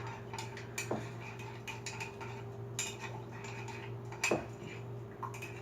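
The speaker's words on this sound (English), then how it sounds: "now that you've squeezed the juice from the 2 limes and you have the honey, you have to really mix them together" A metal spoon stirs lime juice and honey in a glass or bowl, giving light clinks and scrapes at irregular intervals, quiet and close, with a couple of sharper knocks against the container.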